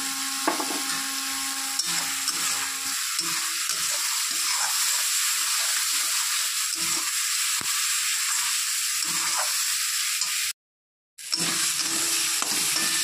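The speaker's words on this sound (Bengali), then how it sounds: "মশলাটা কষিয়ে নেওয়া হয়ে গেছে প্রায়" Spice paste with chili powder sautés in a pan, giving a steady close sizzle with faint scraping and a short silent gap near the end.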